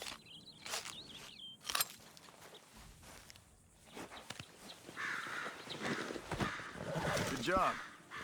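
In the video game Red Dead Redemption 2, a horse whinnies amid clip-clopping hooves and rustling, with short bird-like calls and low voices speaking in the background.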